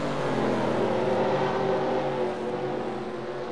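Race cars roar off together at the start of the Piston Cup All-Star race at North Wilkesboro Speedway, a dense, sustained engine drone that builds and then eases slightly.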